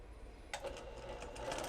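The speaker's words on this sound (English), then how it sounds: "I'm going to just simply stitch along the edge with a regular sewing machine" A regular sewing machine stitching straight along the edge of fabric for a mug rug, starting abruptly after a quiet moment and running as a steady, fairly faint mechanical whirr with rapid rhythmic clatter.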